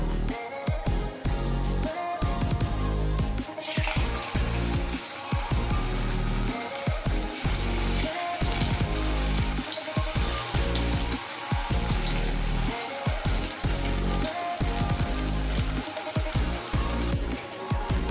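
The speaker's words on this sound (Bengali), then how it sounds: "বলগুলো এবার একটা একটা করে আমি তেলে ফ্রাই করে নেব" Soybean kofta balls deep-frying in hot oil: a loud, continuous bubbling hiss that swells after a few seconds, over a regular pattern of soft low thumps, close to the pan with no talking.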